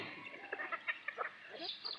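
Chickens and ducks cluck and call in a busy, overlapping flock while being fed rice, short calls rising and falling close by.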